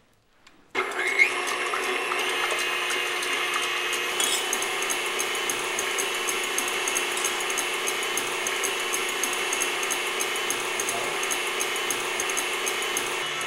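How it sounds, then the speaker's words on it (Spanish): Egg whites being beaten with an electric mixer, which starts abruptly after a short quiet moment and then runs as a steady whirring buzz, close and continuous to the end. "Ahora vamos a empezar por batir las claras"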